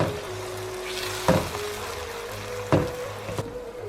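Green chilies fry in a hot pan with steady, close sizzling while a utensil stirs them, giving two sharp clacks against the pan partway through.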